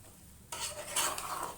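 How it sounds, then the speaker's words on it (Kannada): Ground masala being stirred into hot tempering in a pan for a cucumber sambar, a sudden scraping, sizzling rustle that starts partway through and continues steadily, close and fairly loud, with no talk. "ಒಗ್ಗರಣೆಯಲ್ಲಿ ಸ್ವಲ್ಪ ತಿರುಗಿಸ್ಕೊಳ್ಳೋಣ ಮಸಾಲೆನ."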